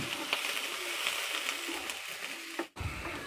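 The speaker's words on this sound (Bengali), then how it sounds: "মাছগুলোকে আমরা একটু ভেজে নিচ্ছি" Peeled local shrimp sizzle in a hot pan, a continuous close hiss with scattered crackles and a brief drop into quiet near the end.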